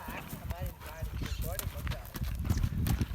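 A mare's hooves clip-clop in quick uneven beats during jump training, up close, with people talking over them throughout.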